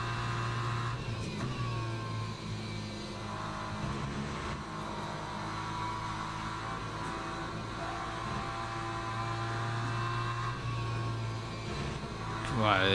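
A BMW GT3 race car circulates at Le Mans in a sim-racing game, its engine droning steadily at high revs under intermittent talk, swelling slightly toward the end.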